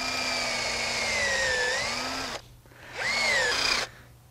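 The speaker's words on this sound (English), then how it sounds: "So we're drilling on an upward slant of about 10 or 15 degrees to our mark." Power drill boring an upward-slanted tap hole into a large maple tree's trunk, a steady high whine running about two seconds, a brief pause, then a second shorter burst close up.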